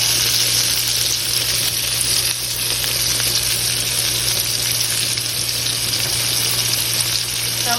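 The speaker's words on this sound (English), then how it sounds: "So pretty much I'm just going to stir fry the onions," Onions and green peppers stir-fry in a pan with a loud, continuous sizzle and hiss, steady throughout and close up.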